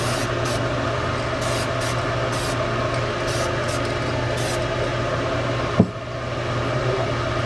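An aerosol sprays a metallic finish onto a fishing lure in light coats, short hissing bursts repeating over a steady background hum, with a brief knock near the end.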